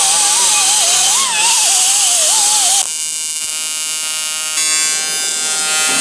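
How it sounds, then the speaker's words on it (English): A crack in an aluminum wheel is welded with filler rod, giving a steady, loud electric buzz with a wavering whine that changes tone partway through, with no talking. "now we just finished the welding process"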